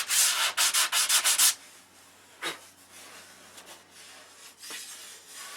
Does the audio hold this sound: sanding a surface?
yes